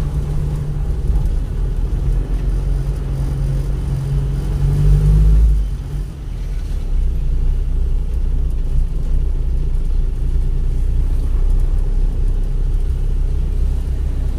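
Road traffic in Iligan City rumbles past steadily, with a nearby car engine swelling louder around the middle before settling back into a constant low drone; no one speaks.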